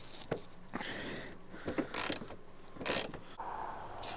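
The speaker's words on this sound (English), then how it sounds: "there's a 10mm like kind of screw bolt up in here that you're going to take off" A ratchet backs a 10mm bolt out from behind the bumper of a 2003-2008 Toyota Corolla: soft mechanical clicking with two louder, harsher bursts of rapid ratcheting, close by, with no talking.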